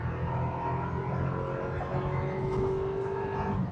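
A 2025 Toyota 4Runner TRD Sport's four-cylinder engine revs hard toward 6,000 RPM, a steady loud drone with a rising tone held through the whole stretch and no talking.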